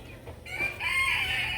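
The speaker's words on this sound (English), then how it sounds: "Now there's a chicken in here." A chicken gives a short run of close clucks and a raised squawk in a backyard coop during evening chores.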